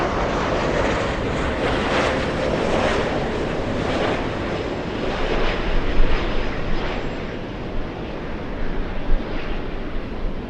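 An Alaska Airlines Boeing 737 jet at LAX produces a steady, broad engine roar that holds at a moderate distance and swells slightly midway, with no talk over it.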